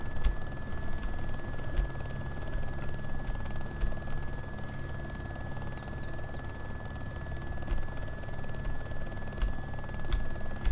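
Littlebird helicopter hovering in the military video game ARMA 2, a steady low rotor thrum and engine drone with a constant high whine, continuous and close, no talk.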